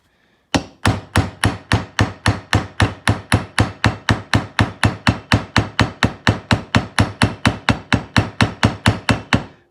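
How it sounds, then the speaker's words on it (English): A hammer taps a socket to drive an ATV rear wheel bearing into its seat on a 2015 Honda TRX Rancher 420, with about thirty sharp metallic blows at a steady, quick rhythm, loud and close. "I'm going to tap it a couple more times to make sure"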